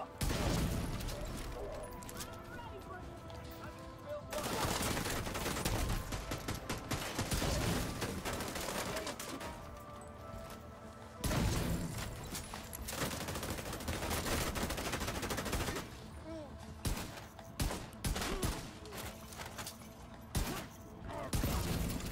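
Bursts of automatic gunfire and heavy shots ring out in The Division 2, a tank build firing a pistol amid incoming enemy fire, loud and nearly continuous with brief lulls, occasional talk over it.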